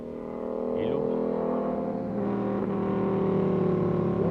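Peugeot 103 moped fitted with a 70cc liquid-cooled Malossi kit, its engine humming steadily and fairly close, cruising gently with a slight rise in pitch and no one talking.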